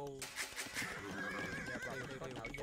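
A horse whinnies in a strategy video game for a Vietnamese horse archer unit, a bright rising neigh with clip-clop hoofbeats under someone talking.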